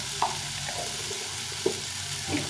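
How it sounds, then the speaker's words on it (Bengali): Potatoes sizzle steadily in a pan after salt and a little turmeric go in, a constant close frying hiss broken by a few soft stirring scrapes and clicks. "কালার আসার জন্য কিছু একটু হলুদ দিয়ে দিলাম দিয়ে এটাকে আরেকটু ভেজে নিয়ে"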